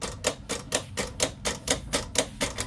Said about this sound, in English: sending the design to the machine to be cut